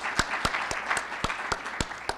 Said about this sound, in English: Let's give him a round of applause for the district